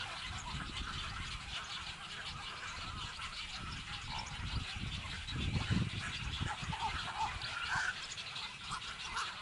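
A flock of nesting birds calls in a mangrove forest on a coast, with scattered honking, duck-like cries rising over a steady broadband wash of background noise.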